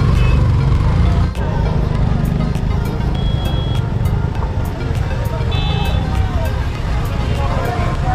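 Road traffic in the Dhanolti area near Dehradun rumbles on steadily and loudly, with vehicles passing and faint horn tones, while people talk over it.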